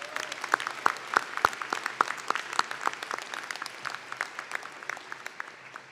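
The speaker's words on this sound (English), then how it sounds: "Please join me in a round of applause for them as well." Applause for student veterans at a nursing school commencement ceremony, a modest audience clapping in a loose, fairly sparse pattern with distinct individual claps, moderately loud and tapering slightly.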